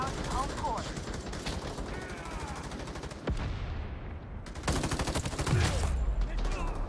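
Rapid gunfire from the free online shooter Battle Teams 2, dense bursts of automatic shots crackling in quick succession with a few sharp louder reports, sitting up close with a faint voice in the background.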